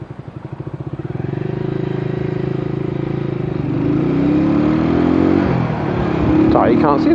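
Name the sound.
motorbike engine while riding at night in rain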